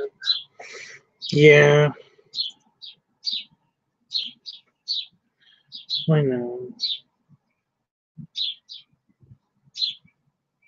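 Birds outside chirp loudly in short, repeated high tweets scattered throughout, close and insistent, while a person talks briefly over them indoors.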